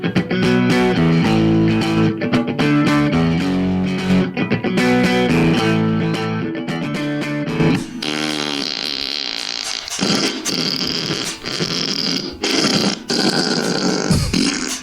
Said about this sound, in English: It was just fart sounds